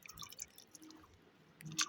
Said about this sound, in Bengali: চিড়েটা ভালো করে ধুয়ে নিলাম, দিয়ে ভালো করে জলটা নিগড়িয়ে নিলাম।